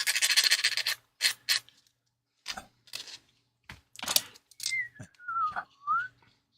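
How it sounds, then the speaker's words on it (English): Short rasping bursts of sanding on rusty car metal come in separate strokes with pauses, and someone whistles a brief rising and falling tune. "I'm going to have some noisy sanding now"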